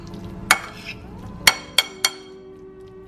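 Avocado guacamole being mixed in a bowl gives a few sharp utensil clinks against the bowl over a soft background, with about four distinct knocks spaced irregularly.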